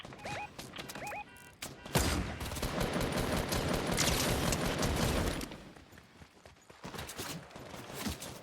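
Burst rifle fire in the video game Fortnite, loud rapid gunfire bursts crackling densely for several seconds in the middle, with sharper scattered shots before and after.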